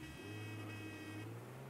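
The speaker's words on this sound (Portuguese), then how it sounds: "Não sou eu que tô buzinando, velho." A car horn blares in the Mafia 3 video game, a sustained buzzing honk held at steady pitch for nearly two seconds, fairly faint in the mix.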